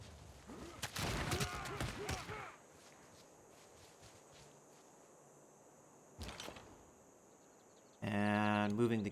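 Cannon bombarding a city in the video game Civilization VI: a rapid cluster of booming, crackling shots, then a quiet stretch with soft ambient insect-like chirping, a sharp single crack, and a bright musical sting at the end.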